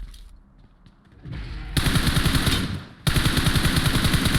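MG3 machine gun fire in a video game, long sustained bursts of rapid, loud automatic shots that break off briefly and then start again.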